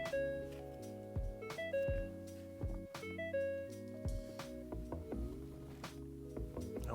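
A 2024-2026 Ford Mustang S650 sounds a double chime alert at key-on with the engine off, tonal electronic tones ringing clearly in the cabin over several seconds with no talking.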